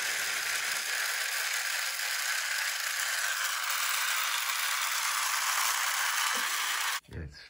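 Joustra tin toy railcar's clockwork motor whirs and rattles loudly and continuously at close range after starting, then stops abruptly near the end with a click.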